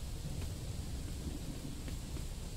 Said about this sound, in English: we've got rain, like, on the screen to make it really feel, like, immersive